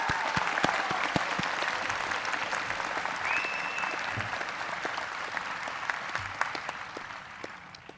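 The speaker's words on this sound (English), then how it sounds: "Let's give Dr. Blakely a round of applause." Audience applause fills a graduation ceremony for a school of professional psychology, a steady, dense wash of many hands clapping that holds at an even level throughout, with occasional sharper individual claps standing out near the front.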